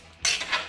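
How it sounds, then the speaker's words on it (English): A spoon scrapes and clinks against a pot of simmering maque choux, a short close metallic swish in two quick strokes after a moment of quiet. "I'm going to give it a little stir too, just to make sure everything's mixed up good"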